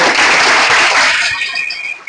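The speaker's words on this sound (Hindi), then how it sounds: "ऐसे टीचर के लिए पहले जोरदार ताली बजाओ आप" A classroom audience claps loudly for a teacher at a maths coaching class, a dense burst of applause that carries through and eases slightly toward the end.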